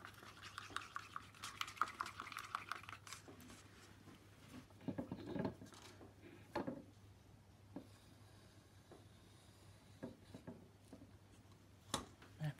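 White acrylic paint gets stirred and mixed with silicone: very faint, close, scraping and pattering taps of a tool in a cup come in irregular bursts over a low steady hum, and no one speaks.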